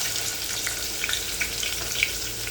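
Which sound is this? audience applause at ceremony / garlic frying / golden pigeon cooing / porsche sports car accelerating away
garlic frying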